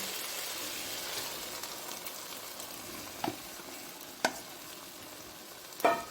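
A sauce mixture sizzles steadily after being poured into a hot pan for an Asian-style rice noodle dish while a utensil stirs, with a few sharp knocks against the pan.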